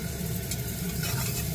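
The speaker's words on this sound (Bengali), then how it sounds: "একটু ভাজা ভাজা হয়ে যাক, লাল লাল করে" Onions with a pinch of salt fry in a pan until reddish, giving a steady, dense sizzle that holds evenly throughout.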